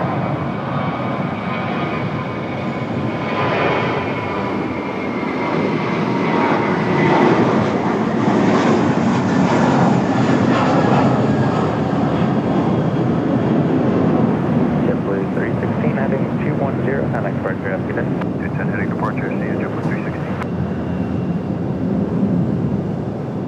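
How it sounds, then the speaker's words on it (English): A JetBlue jet departs RDU for JFK, its engines building into a loud, sustained roar with rising whine, rumbling on for over twenty seconds while a voice speaks intermittently over it. "This one, JetBlue 316 off to JFK. Be another nice sounding departure here."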